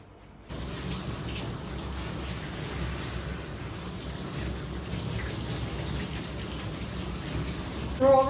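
Steady, close water spray rinsing two matted Poodles during a grooming bath, a continuous hiss of running water splashing on wet fur from start to finish with no talking.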